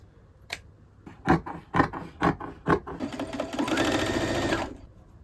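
A sewing machine stitches an elastic channel in a garment, first with several separate rhythmic needle thumps, then a steady continuous whirring run before it stops, close and clear.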